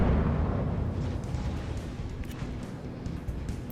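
Warship main guns firing in World of Warships Legends, a heavy low boom at the start decaying into a rumbling tail with scattered faint impacts.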